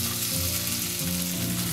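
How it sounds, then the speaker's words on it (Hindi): Cubed potatoes hit a pan of frying ginger and green chili for spicy cumin potatoes, giving a loud, dense, continuous sizzle close up with no voices. "अब इसमें हम क्यूब में कटा हुआ आलू डालेंगे,"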